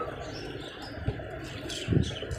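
Pigeons coo nearby in a couple of low, soft bursts over a steady backdrop of faint outdoor ambience, with no talking.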